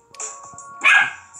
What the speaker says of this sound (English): Excuse my dog out here.